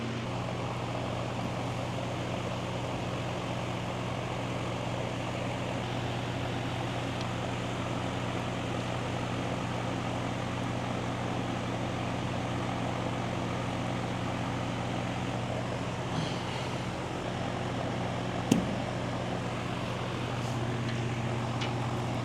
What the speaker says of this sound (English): I'm gonna fire the tractor up.